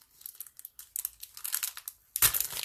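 A plastic bag holding a chalk transfer is opened by hand, giving close, crinkly rustles in short bursts that end in a louder, sustained crackle.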